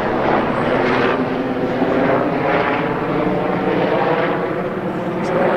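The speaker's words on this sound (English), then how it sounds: "There's a helicopter there." A helicopter passes overhead outdoors as a steady, loud rotor drone with a broad engine rumble, holding constant for several seconds.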